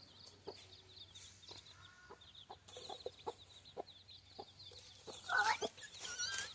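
Small chicken cheeps and clucks scattered over several seconds, with soft rustling and a louder burst of chirping near the end.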